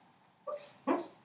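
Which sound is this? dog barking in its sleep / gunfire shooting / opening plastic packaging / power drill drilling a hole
dog barking in its sleep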